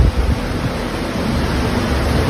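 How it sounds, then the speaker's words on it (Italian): Strong storm wind in São Paulo roars loud and steady right against the microphone, a dense rushing blast with gusty swells. "Olha esse vento."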